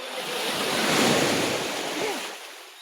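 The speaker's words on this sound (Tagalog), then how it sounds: "Ayun natin, kaganda ng dagat." Sea waves swell and break on a shore in a steady wash of surf that rises and fades, loud and close, with wind buffeting the microphone.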